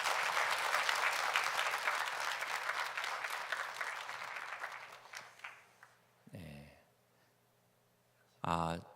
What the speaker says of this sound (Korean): 우리 찬양팀들에게 한번 힘찬 격려의 박수 부탁드립니다